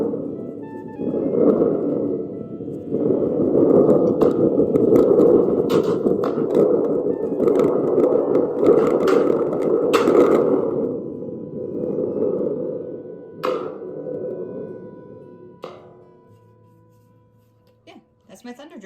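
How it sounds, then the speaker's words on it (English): A thunder drum shaken and rumbling close up, with a long washy roar that swells, then fades out to silence, and a few sharper clicks and taps near the end. "That's my thunder drum, and that's what it sounds like."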